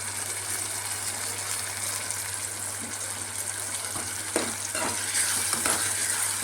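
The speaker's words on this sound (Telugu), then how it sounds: "ఇప్పుడు వీటిని మంచిగా కలుపుకోవాలి." Tomato and turmeric stirred in a hot pan for kabuli chana curry, a steady close sizzle with scraping strokes of the spoon growing more frequent toward the end, no talk.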